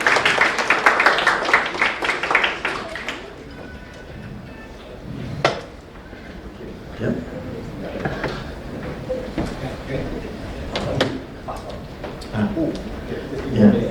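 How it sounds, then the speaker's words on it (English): Audience applause at a training seminar on using AI for administrative and marketing tasks, a burst of clapping that fades after a few seconds into scattered claps, clatter and handling noises. "A big round of applause."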